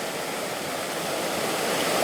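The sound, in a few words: waterfall near Clarkson Covered Bridge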